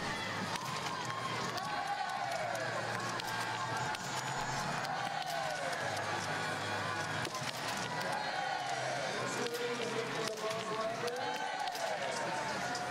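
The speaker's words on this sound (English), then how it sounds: "Some Germans in the crowd cheering all her successful shots" Spectators in the crowd at a Paralympic sitting biathlon race in Sochi cheering and clapping in the distance, beneath continuous commentary over the venue ambience.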